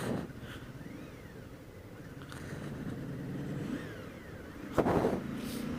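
A motorcycle engine hums steadily under the rider while riding, with the pitch rising and falling through gear changes and a brief louder burst near the end, fairly muffled and continuous, without voices.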